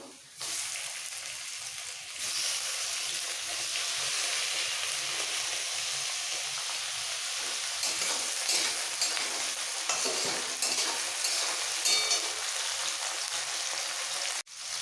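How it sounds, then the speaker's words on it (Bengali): Chopped onions fry in a pan for street-style ghugni, giving a loud, steady sizzle and hiss with occasional stirring scrapes that runs almost unbroken throughout. "খুব লাল করে ভাজার দরকার নেই পেঁয়াজের"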